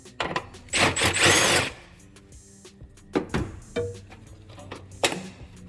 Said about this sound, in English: we need a 10mm for the bolt that's holding down our air box